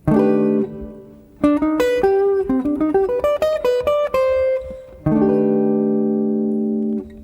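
A clean jazz guitar chord rings out, followed by a quick run of single notes, then the chord is struck again and left to sustain.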